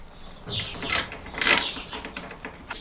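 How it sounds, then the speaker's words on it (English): Socket wrench fitted with a size 4 Allen socket ratcheting bolts on a V-Strom 800 motorcycle: a few close, sharp clicking bursts, with two louder ratchet strokes standing out over quiet background. "Take your socket wrench and a socket with an Allen tip of size 4."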